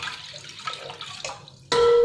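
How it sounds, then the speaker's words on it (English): About four cups of water pour into a heavy-bottomed pan for Ladakhi thukpa soup. Gurgling splashes come in short bursts, then a steady, louder close-up stream to the end, with no voices. "In that I'm adding about 4 cups of water."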